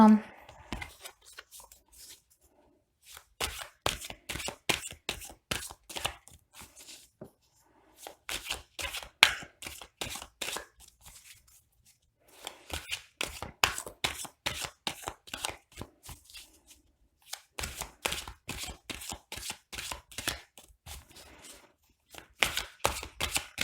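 A deck of tarot cards is cut and shuffled in repeated bursts of crisp riffling and slapping, close to the microphone, with brief quiet gaps between the rounds.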